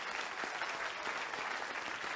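An audience at a spiritual service claps steadily, a dense continuous patter of many hands filling a hall, moderately distant with no talk over it.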